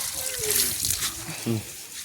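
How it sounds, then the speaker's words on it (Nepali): Water gushes from a pipe after being released from a tank during a community cleanup drive, a steady broad rush running the whole time beneath voices talking nearby. "हामीले झारेको पानी चाहिँ अहिले यति ठुलो पानी यहाँ आउन सफल भएको छ"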